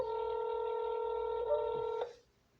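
A telephone emits a steady dual-tone dialing signal for about two seconds, clear and close, then cuts off abruptly into quiet line noise.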